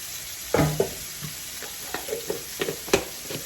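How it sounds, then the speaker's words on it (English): Minced garlic goes into a simmering spaghetti sauce in a pan, with a burst of sizzle and a series of spoon scrapes and stirring knocks against the pan, close and moderately loud. "what we're going to add here to this sauce is we're going to add in some minced garlic"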